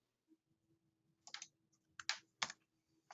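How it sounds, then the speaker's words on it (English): A few quick, quiet keyboard taps in small bursts, close by in an otherwise silent room. "He can't hear me. He's typing."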